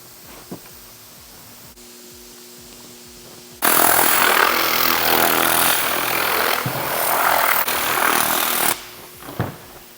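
A power drill drives self-tapping screws into wood, a loud grinding, whirring burst lasting about five seconds that stops abruptly, with faint clicks and handling noise before and after.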